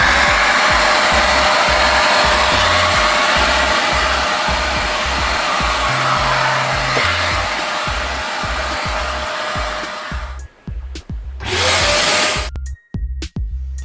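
A wet and dry vacuum cleaner runs loud and steady with a broad motor whine for about ten seconds, then switches off and on in short bursts before stopping.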